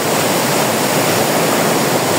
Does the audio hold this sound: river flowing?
yes